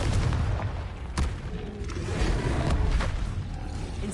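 Confringo spell blasts in the Hogwarts Legacy video game, heavy booming explosive impacts with sharp cracks around one and three seconds over a rumbling low-end wash.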